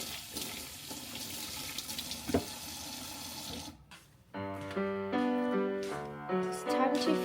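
Water runs and splashes at a kitchen sink while a sponge is squeezed out, a gushing, hissing wash that breaks off, then gives way to a melodic music passage.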